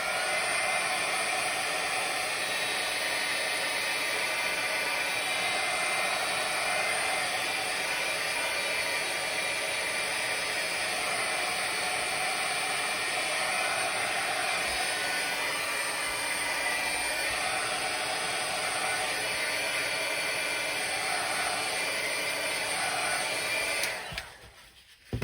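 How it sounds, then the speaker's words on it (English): A hair dryer blows steadily over a collage art journal page, a loud, constant whirring hiss that runs nearly unchanged for about twenty-four seconds before switching off abruptly near the end. "let me just quickly get that dry"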